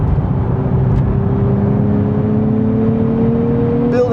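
A 2027 Nissan Z Nismo accelerating hard on a race track, a loud, steady engine drone that climbs gradually in pitch, heard close from inside the car with no talk.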